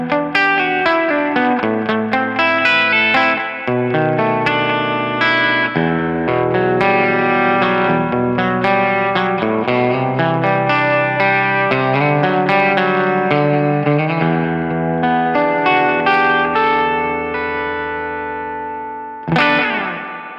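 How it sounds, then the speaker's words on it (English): Sustained twangy electric guitar chords drenched in delay and long spring reverb, notes blooming and trailing into each other, ending with a fading wash before a final strum. "I got to admit, that's a pretty long reverb right there"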